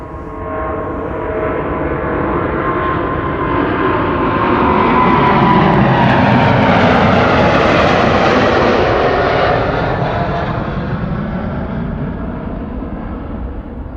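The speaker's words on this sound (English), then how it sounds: "KLM Flight 755, 777-200. Let's listen." A Boeing 777-200 roars loudly throughout its takeoff at Amsterdam Schiphol Airport, swelling to a peak midway and slowly easing off as it climbs away, with a steady rumbling engine wash.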